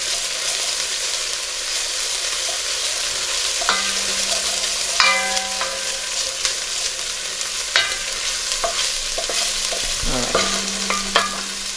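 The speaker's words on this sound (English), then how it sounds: "I'm just going to stir this for about 30 seconds until the garlic is fragrant." Garlic sizzling in a pan for prawn risotto while a utensil stirs it, with steady bright frying and repeated scraping and clinking strokes, close and loud.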